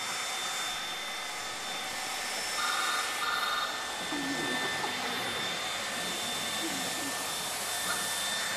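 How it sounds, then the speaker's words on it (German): A hair dryer running onstage in a theatre production of Carnage, a loud, steady whooshing roar that holds without a break, with faint voices underneath. "Ich mach diesen Föhn aus."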